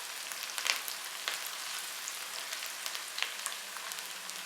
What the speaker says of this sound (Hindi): इनको भी 1 से 2 मिनट के लिए फ्राई करेंगे।